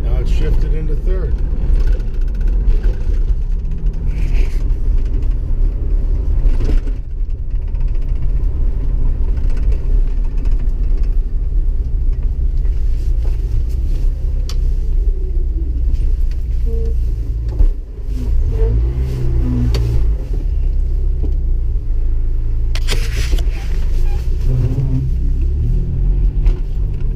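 A Jeep Wrangler SE is driving and shifts into third gear, with a continuous engine rumble and road noise that dips in a few places while people talk over it.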